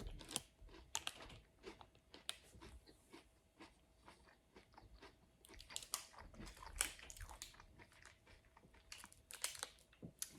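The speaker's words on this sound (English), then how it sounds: "I'm gonna get right into eating this Birthday Cake Remix bar" Crunchy chewing of a BSN Protein Crisp Birthday Cake Remix bar with a Rice Krispies-like texture, close up: irregular crisp bites and crackly munching, loud and steady throughout, no talking.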